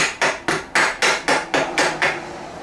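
Eight sharp hammer blows from a new Faster Cat hammer, struck at a steady rhythm on worn metal trailer brake backing plates, close and loud, with no talk.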